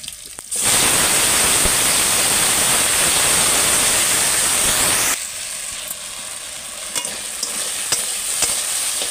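Potatoes, taro and eggplant hit hot tempered oil in a pan with a loud, steady sizzle and hiss, which settles to a quieter frying crackle with faint stirring clicks.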